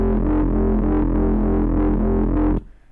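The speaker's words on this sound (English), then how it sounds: "And maybe I want to add some more distortion to this one in particular." A dense, gritty Kilohearts synth chord with a distortion effect and a buzzy edge, sustained loudly and pulsing slightly, then cutting off abruptly near the end.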